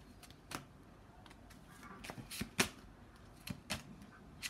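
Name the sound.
shuffling a deck of tarot cards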